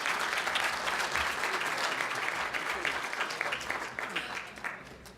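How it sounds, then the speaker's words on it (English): Sustained audience applause for a hall of fame inductee at a high school hall of fame ceremony, a dense, loud wash of clapping from a large crowd that gradually thins toward the end. "big round of applause for Rinky Batson"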